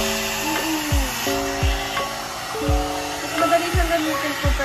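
A one-step hair styler and dryer with a brush head runs with a steady airflow whir, its pitch shifting slightly as it moves, close up with a few faint low thumps and no talk.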